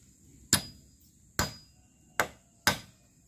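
Hammer blows driving 3.5-inch nails into a wooden roof truss joint, four sharp, loud strikes at uneven intervals with quiet gaps between, no talk.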